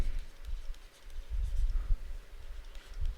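Marker or chalk scratching on a board in short strokes and scribbles, close and moderately loud, a brief pause near the start and then steady writing, with no speech.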